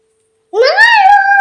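A puppy lets out a single drawn-out, rising howl that starts abruptly after a brief silence and holds steady, close and fairly loud.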